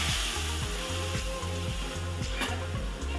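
A spice paste of ground spices hitting hot oil after fried chilies, for a Bengali hilsa and eggplant curry, with a dense, steady sizzle and a low repeating hum beneath it.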